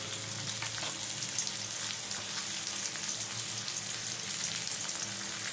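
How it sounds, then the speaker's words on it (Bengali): Steady, dense sizzling of pointed gourd and potato pieces frying in hot oil, continuous and fairly close, with no talking. "পটল আর আলুটা লাল লাল করে ভেজে নিই"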